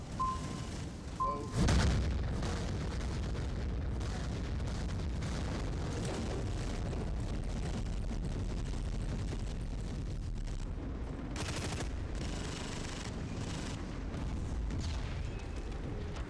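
Bombing explosions in the Dust 514 video game, a booming blast near the start and another burst later, over a dense continuous rumble of battle noise.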